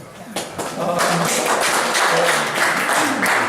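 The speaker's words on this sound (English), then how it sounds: "So you deserve a really big round of applause" An audience at a photo exhibit breaks into applause, a dense burst of clapping that swells quickly and stays loud and steady for several seconds.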